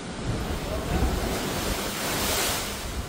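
Large, forceful ocean waves pound the shore near a seawall and pier in Iloilo City, a dense, continuous roar of surf with gusting wind noise across the microphone, no voices.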